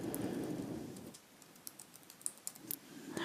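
Typing an email address on a computer keyboard, a quick run of light, close key clicks, uneven in rhythm, after a faint rustle at the start.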